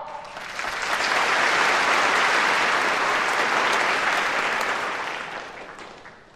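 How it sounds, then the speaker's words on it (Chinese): Audience at a company gala breaking into warm applause for a speaker, a dense crowd of clapping that swells over the first second, holds steady, then tapers off. "那么接下来我们以热烈的掌声有请肖总讲话"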